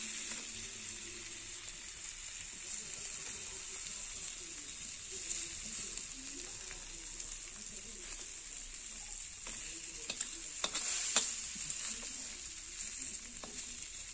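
Crab pieces fry Malvani-style on a hot griddle, giving a steady, close sizzle that runs throughout, with occasional scraping stir strokes and light clinks toward the end.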